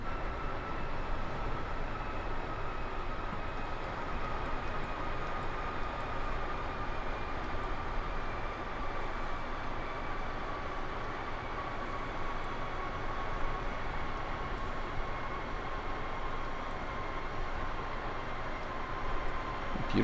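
Steady broadband roar inside the cabin of an Airbus A319-CJ with IAE engines cruising at flight level 380 in smooth night air, a constant engine and airflow drone holding loud and unbroken throughout.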